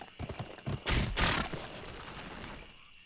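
Horse hooves clip-clop in the Western video game GUN, a few quick thuds followed by a loud crashing burst that fades into a lingering rumble.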